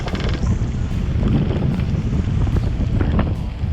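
Strong 30-knot wind at sea roars steadily across the microphone aboard a boat, with a constant low rumble and gusty buffeting, alone without any talking.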